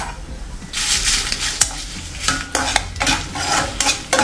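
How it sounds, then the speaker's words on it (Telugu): Dried red chillies frying in a spoonful of oil in a kadai: a bright crackling sizzle starting after a quiet moment, with spoon scrapes and metallic taps against the pan, near and fairly loud. "మనం ముందుగానే ఒలిసి పెట్టుకున్న మిరపకాయలు వేసి వేపుకుందామండి."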